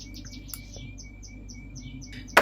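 Wild birds chirp and tweet in quick repeated short calls while feeding outside a kitchen window near an aviary, fairly near and moderately loud, ending in a sharp bright burst.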